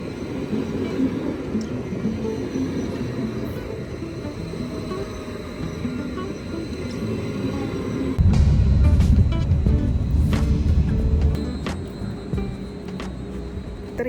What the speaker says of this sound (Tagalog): Train ride natin is only 3 minutes.